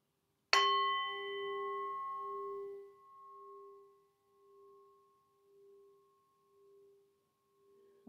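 A singing bowl is struck once and rings out with a sustained, shimmering tone that slowly fades with gentle beating pulses, heard alone in a calm, quiet setting.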